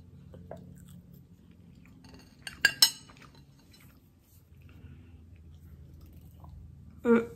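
Quiet, moist chewing of a luxury galette des rois filled with frangipane almond cream, close and soft, with a few sharp clinks of cutlery on a plate partway through and another knock at the end.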